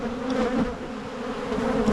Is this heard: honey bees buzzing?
yes